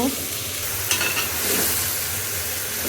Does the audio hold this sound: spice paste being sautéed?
yes